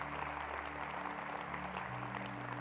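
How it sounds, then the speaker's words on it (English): A church congregation claps together in a fairly quiet, steady round of applause, with a low sustained hum underneath. "So today, you can give God a hand clap to that."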